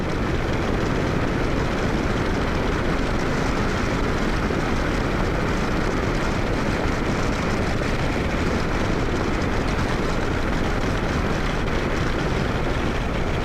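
Steady, unbroken roar of engine and rushing wind from a 2024 Harley-Davidson Street Glide or Road Glide on a test ride, loud and constant throughout with no talking.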